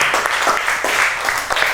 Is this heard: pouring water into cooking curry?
no